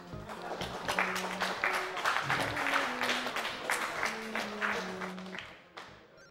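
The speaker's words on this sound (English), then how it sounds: "The whole room erupts in applause." Steady crowd applause with dense clapping throughout, with sustained musical notes over it, fading toward the end, in the video game Wizkid.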